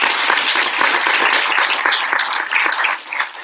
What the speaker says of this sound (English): a huge round of applause for our eighth grade speakers today